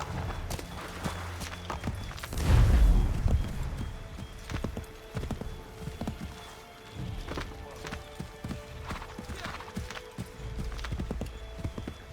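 A horse's hooves clip-clop across ground in the video game Assassin's Creed 3, with a heavy thudding burst near the start, then steadier rhythmic hoofbeats at close range with faint ambient game sounds behind.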